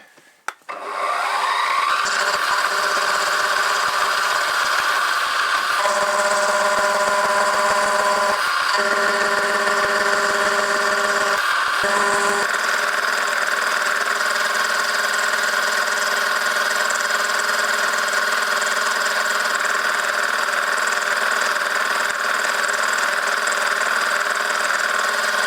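A milling machine cuts a dovetail into a metal part, its steady whine and harmonic drone running loud and continuous throughout, with a few brief changes in tone early on before settling into a constant hum.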